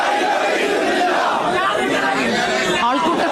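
A dense crowd gathered around an ambulance carrying a leader's body at a Kerala funeral procession, loud continuous massed voices and shouted slogans filling the whole stretch, close and unbroken.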